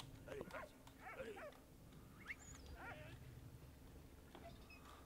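A dog in the video game Valiant Hearts gives short yips and whimpers, a few scattered calls that are fairly faint and mixed with a voice talking.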